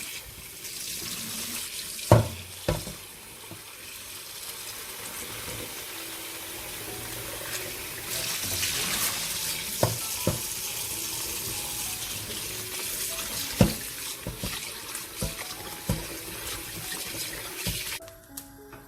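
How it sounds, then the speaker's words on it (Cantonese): Running tap water splashes steadily into a sink, with occasional knocks and clatters as blanched pork ribs are rinsed under the stream. "出完水嘅排骨洗返乾淨，"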